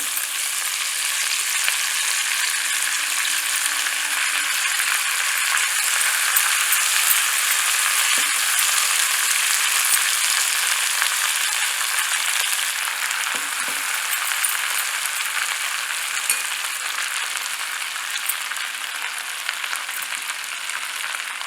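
Manathakkali greens sauté in hot oil, giving a dense, steady hiss of sizzling that runs unbroken and close up, with only a couple of faint stirring knocks.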